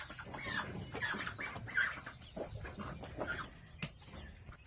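Several chickens cluck and murmur nearby in a continuous, overlapping chatter, with a few sharper calls standing out.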